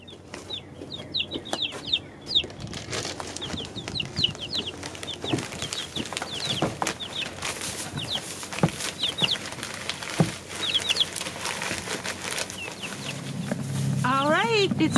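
Young chicks and hens cluck and cheep in a busy, steady chatter close by, with a voice speaking now and then over the flock and a rising scrape of handling noise near the end.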